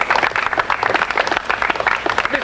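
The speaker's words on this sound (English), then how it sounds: "Round of applause for Miss Su Young" Audience applause at a live variety show, dense steady clapping from a crowd lasting the whole moment, fairly loud and close.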